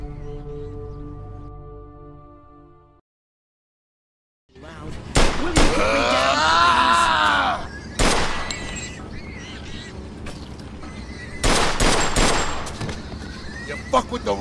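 Gunfight in the Mafia 2 Definitive Edition remaster video game: after a brief silence, loud sharp gunshots crack in bursts, some in quick volleys, over dense game noise, shouted voices and action music.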